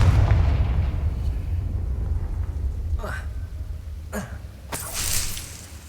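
Confringo blasting spell explosion in the Hogwarts Legacy video game, a heavy rumbling blast that fades into a low roar, followed by a few sharp swishing bursts and a bright crackling flare near the end.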